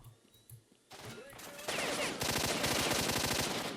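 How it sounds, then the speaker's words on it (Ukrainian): Gunfire in the video game S.T.A.L.K.E.R.: Shadow of Chernobyl: scattered shots, then sustained rapid automatic bursts growing louder and denser, with no talking. "Чого всі в мене, блін, стріляють?"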